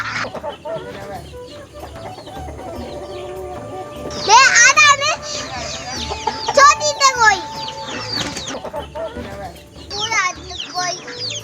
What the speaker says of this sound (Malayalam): കോഴികളാട്ടോ നല്ല രസമുണ്ട്.